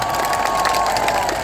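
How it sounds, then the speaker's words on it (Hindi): An audience claps loudly and steadily for a speaker at a gathering, with a few scattered cheers mixed into the close, dense applause. "थैंक यू चैलेंजिंग स्पीच देने के लिए, उनके लिए जोरदार एक बार ताली।"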